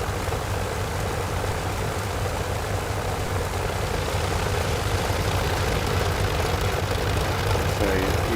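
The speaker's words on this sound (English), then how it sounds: "I got nothing but your engine sound being amplified" Engine of an Albatros D3 biplane in Microsoft Flight Simulator 2024, a dense, loud, steady drone with a low rumbling throb that fills the whole stretch without letup, with a voice intermittently audible under it.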